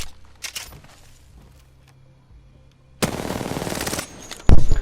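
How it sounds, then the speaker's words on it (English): Hemlok rifle gunfire in the Apex Legends video game: scattered light shots early, then a sustained loud burst of rapid firing, a brief lull and another loud volley at the end, with no voices. "Well, I'm just shooting around, testing stuff out."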